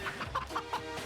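Cartoon chickens cluck in the Snotsberry Farm level of the video game Moving Out, a rapid run of short, bright clucks over a soft bed of game sound, fairly quiet, with nobody speaking.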